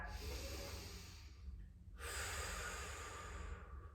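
Deep breaths are taken during a yoga flow in a goddess squat. There is a long, close, airy inhale, then a brief pause, then a strong audible exhale. Both are soft and heard alone, without talk.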